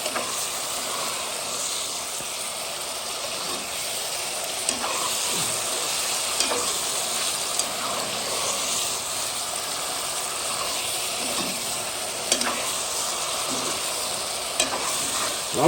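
Sausage and carrots frying in a pan, a dense steady sizzle and hiss close up, with a few soft clinks and taps of stirring scattered through, no talk.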